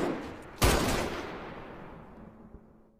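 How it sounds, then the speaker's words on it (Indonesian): A single sharp, loud gunshot in a film scene cracks out suddenly, then a long reverberant tail slowly dies away, with no other sounds around it. "Yejin langsung menembak Gang Jai hingga tewas."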